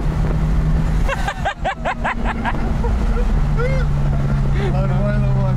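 A Nissan Skyline KPC10 with a carbureted engine drones at full throttle in a steady loud roar, with people talking over it.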